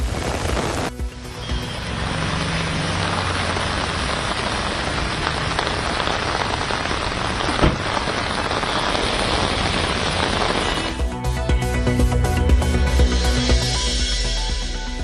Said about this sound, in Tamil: கிருஷ்ணகிரியில் இரண்டாவது நாளாக மழை பெய்ததால் குளிர்ச்சியான சூழல்